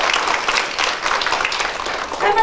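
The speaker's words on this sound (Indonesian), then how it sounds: "tepuk tangan dulu untuk Yesus." A church congregation breaks into applause during a sermon, a dense, loud wash of clapping from many hands that holds steady throughout.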